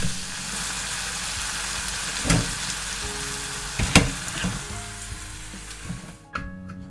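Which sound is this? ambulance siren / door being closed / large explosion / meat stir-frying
meat stir-frying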